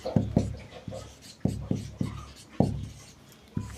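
Chalk or marker tapping and scraping on a board during a chemistry lesson, in short separate strokes with a sharp onset, close, with a low background hum.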